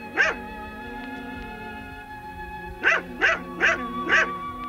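A shepherd's dogs at Mont-Saint-Michel in 1967 bark outdoors: one bark, a pause, then four quick barks in a row, with soft background noise in between.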